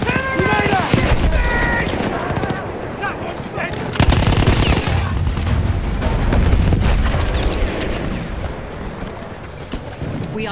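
Dense, sustained machine-gun fire from a Battlefield 1 battle rattles on nonstop, while heavy artillery booms thump through it close and loud.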